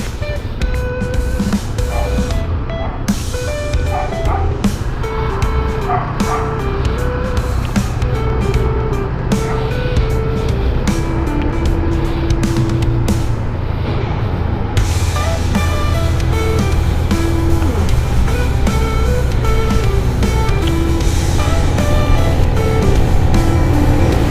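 Road traffic passing during a motorcycle club ride from Cavite down a descent toward Hulugan Falls in Luisiana, Laguna: a continuous broad rush of vehicle and wind noise with engine tones, steady and fairly loud throughout.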